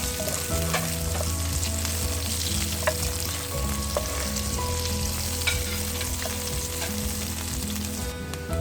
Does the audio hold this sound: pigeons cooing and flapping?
no